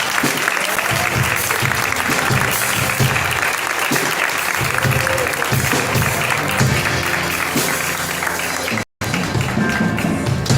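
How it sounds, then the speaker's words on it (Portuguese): A church congregation at a family worship service applauds in praise, sustained dense clapping under music and scattered voices, broken by a short gap of silence near the end. "Aplauda o Senhor Jesus."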